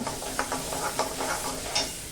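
Continuous crackling sizzle of spices, asafoetida and turmeric, frying in hot oil as a tempering for dal fry, with a few soft scraping stirs mixed in.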